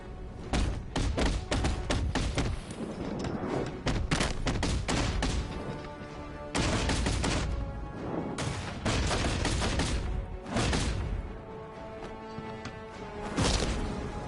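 Dense volleys of gunfire in Batman: Arkham Knight hammer in repeated clusters of rapid thumping shots, loud and near, separated by brief lulls with no talking.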